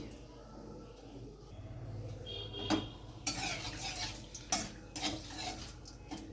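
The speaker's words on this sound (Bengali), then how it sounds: "তেলটা গরম হয়ে গেছে দিয়ে দিচ্ছি গোটা গরম মশলা দিয়ে দিচ্ছি দুটো তেজপাতা" Whole garam masala and bay leaves hit hot oil, and after a few soft utensil clinks a bright crackling sizzle bursts up and keeps hissing strongly, close to the microphone.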